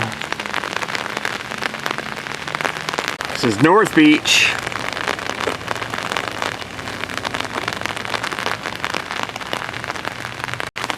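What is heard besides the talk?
drizzle rain falling on an umbrella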